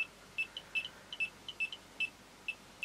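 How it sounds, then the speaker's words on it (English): A GM-100A dosimeter's alarm sounds in short, high-pitched electronic beeps that chirp in an irregular stuttering rhythm, sometimes in quick pairs, over a quiet background. "There we get my alarm sounding."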